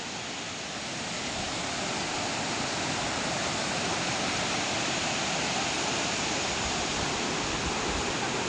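Clear mountain stream water rushes in a steady, dense roar, a constant broadband wash without pauses that fades in briefly at the start and then holds evenly.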